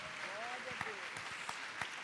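A church congregation claps during a Sunday morning Mother's Day service, a short burst of scattered applause with distinct individual claps under a voice.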